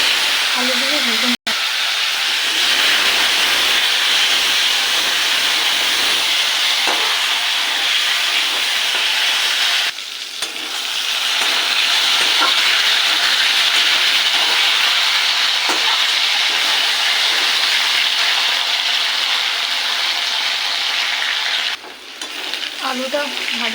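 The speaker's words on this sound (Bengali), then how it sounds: "আলু দিয়ে ভেজে নেব" Potatoes frying in a wok of oil with bay leaf and cumin tempering, a loud, steady, close sizzle that runs without break and dips briefly twice, with no talk over it.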